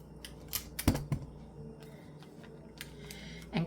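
Scissors snip through washi tape, with a couple of crisp close cuts in the middle and faint rustling and handling ticks around them, quiet and without talk.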